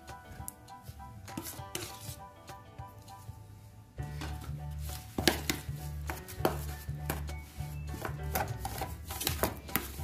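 Cookie dough with egg and margarine being stirred with a spoon in a bowl, giving repeated scraping and knocking strokes, close and fairly quiet, with no talk.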